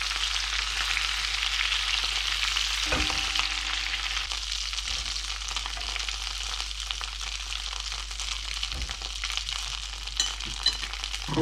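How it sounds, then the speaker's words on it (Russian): Pieces of hare sizzle and spit in hot fat in a heavy-bottomed roasting pot, a steady close frying hiss with a couple of soft knocks as pieces are moved; no talking. "продолжаем в том же духе обжаривать остальные кусочки"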